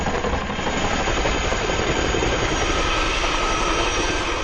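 A Boeing CH-47 Chinook helicopter with massive 60-foot tandem rotors roars loud and continuous, a dense unbroken engine and rotor drone with no speech over it.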